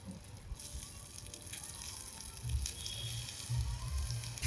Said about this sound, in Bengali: কড়াইতে ঢেলে দিই